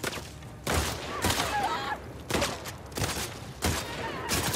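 Enemy gunfire in The Last of Us Part II comes in repeated loud bursts of shots, four or five volleys spaced about a second apart, with faint voice traces between them.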